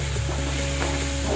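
Green chillies and turmeric sauté in a pan for a Marathi-style green moong dish, giving a steady, close sizzle throughout with faint stirring scrapes and a low constant hum.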